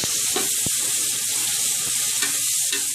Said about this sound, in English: So once the green chili is done, just add the onions.